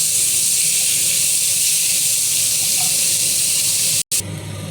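Grated onion hisses and sizzles steadily in a hot pan while being stirred, a continuous close frying hiss broken by a brief pause near the end.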